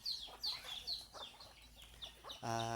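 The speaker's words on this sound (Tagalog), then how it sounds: "Si Lola nagpapakain po ng mga manok mga idol" Several chickens cluck and chirp close by in a steady, chattering stream as they are fed, ending with a sudden burst of louder, tonal noise.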